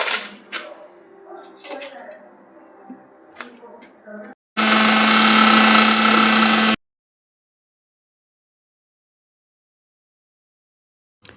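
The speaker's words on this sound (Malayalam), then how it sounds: "അതെല്ലാം കൂടെ ചേർത്ത് നമുക്ക് ഇതിനെ മിക്സിയിലിട്ട് അടിച്ച് എടുക്കണം" A loud mixer grinder blends chutney with curry leaves, coriander and pappadam, whirring in one steady burst of about two seconds with a droning motor hum, then cuts off into silence. A voice talks before it starts.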